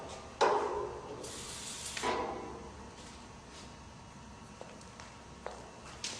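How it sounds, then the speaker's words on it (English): Two short hissing bursts from a spray can of white lithium grease, followed by quiet faint clicks and handling noises. "going to spray white lithium grease on all the areas"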